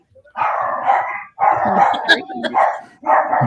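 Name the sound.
dogs barking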